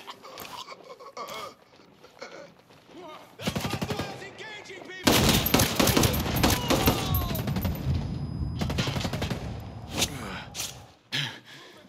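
Rapid automatic gunfire and scattered shots in a Ghost Recon Breakpoint combat firefight, loud bursts building into a sustained, dense volley in the middle and tapering off toward the end.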